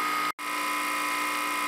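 A refrigeration compressor system runs with a steady, even electrical hum and whine, interrupted by one brief dropout before the drone resumes unchanged, close and continuous.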